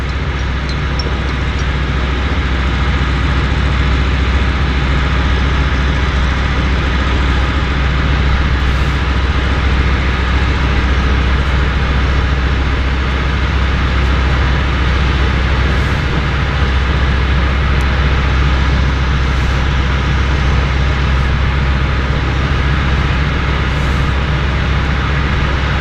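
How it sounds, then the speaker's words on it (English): Steady loud engine roar of aircraft at Vancouver Downtown Harbour Airport, a floatplane base, continuous and broadband throughout with no talk, like a nearby idling or taxiing plane. "Miani can hear the aircraft."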